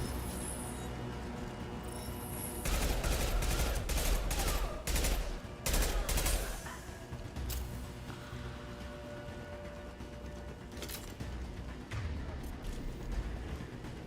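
Pistol gunfire in Mass Effect 2, with sharp, loud shots repeated in irregular bursts over a rumbling game background, some shots spaced apart and others clustered close together.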